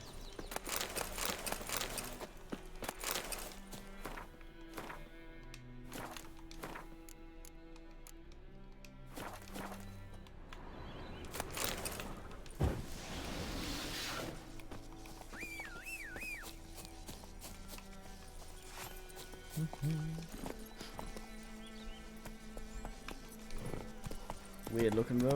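Roach, the horse in The Witcher 3, trots with intermittent clip-clopping hoofbeats beneath game music and frequent speech, the steps fairly soft and mixed into a busy soundscape.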